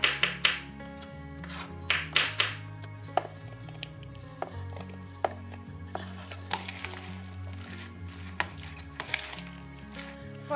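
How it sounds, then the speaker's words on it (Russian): A knife chops the scooped-out centers of eggplant and zucchini on a board, giving steady, crisp taps in an uneven rhythm, close and clear against a low kitchen hum. "И сейчас мы эти серединки с вами измельчим и добавим к фаршу."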